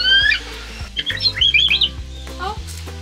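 A parrot at a bird park in Pigeon Forge gives short chirps and squawky calls, a talking bird saying a greeting, with people speaking close by and a low steady hum underneath.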